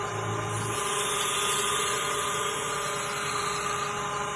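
A wood lathe spins steadily while a Crown 5/8 bowl gouge with a long grind cuts a sweeping ogee curve, producing a continuous even whirring hum and cutting noise with no pauses.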